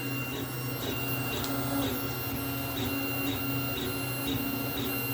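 A VzBoT 3D printer with an experimental hotend runs a high-flow ABS print, giving a steady close mechanical whir and hum with soft rhythmic stepper ticks and chirps repeating about every half second, with no talking.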